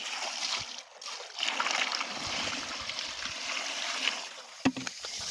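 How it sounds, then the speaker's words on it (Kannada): Water being poured onto a layer of gravel that tops a borewell recharge pit, heard as a steady close splashing and trickling wash that runs for the whole stretch, with a sharp knock or splash near the end. "ಈಗ ನೀರು ಹಾಕ್ತಾ ಇದ್ದೀನಿ"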